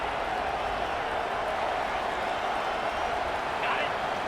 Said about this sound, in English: It is getting loud as this crowd tries to help its defense.